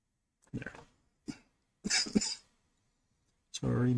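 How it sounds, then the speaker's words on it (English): A few separate coughs, fairly close and moderately loud, spread across a few seconds with short quiet gaps between them, followed by a brief voiced sound at the end. "Sorry, my cough is still there."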